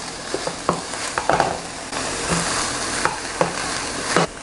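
A spoon stirs flour into shepherd's pie filling in a hot pan, with scraping strokes at an irregular rhythm over a steady sizzle, close and fairly loud, no voices.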